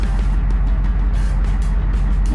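Old church bus engine idling low and steady while the bus backs up a few feet, a continuous rumbling drone close by with no talk.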